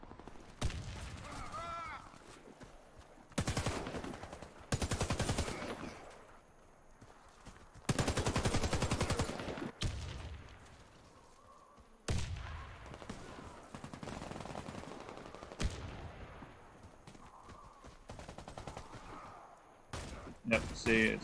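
Bursts of video-game gunfire, loud clusters of rapid shots separated by quieter gaps, with talk between and over the volleys.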